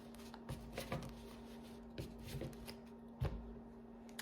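A 32-card deck is shuffled in a tarot-style card reading, producing a few soft riffling bursts and sharp card slaps spaced out over a few seconds, close and quiet with no talking.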